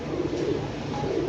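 Pigeons coo in a soft, continuous low murmur at a loft, the rounded calls close and steady under a faint airy background.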